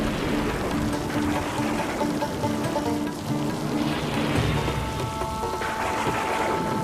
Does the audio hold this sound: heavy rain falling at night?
yes